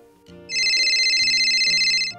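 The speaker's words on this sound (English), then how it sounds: "It looks like we have a phone call from one of our friends." A telephone ringtone plays loudly and continuously, a bright electronic trill that holds for about a second and a half over a light background tune, with no voices.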